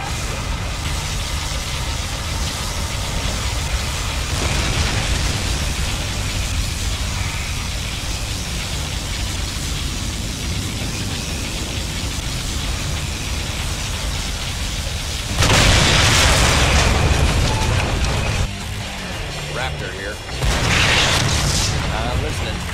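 A particle cannon firing in Generals Zero Hour with the Enhanced mod on the Chocolate Hills map: a long, steady roaring rumble, then a loud, broad blast that lasts several seconds, dips briefly and surges again, with voices heard along the way.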